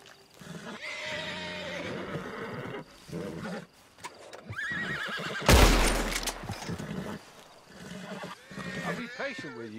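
A horse in Red Dead Redemption 2 gives a loud, close whinny in the middle of the scene, with snorts and hoof sounds around it, while game characters talk before and after.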